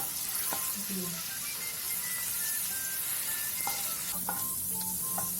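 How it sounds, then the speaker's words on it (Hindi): Ginger and garlic sauté in a pan for spring roll filling, making a continuous sizzle with stirring scrapes, while faint tonal sounds and possible voices sit in the background. "जब अदरक लहसुन हमारा थोड़ा सा भुन जाए"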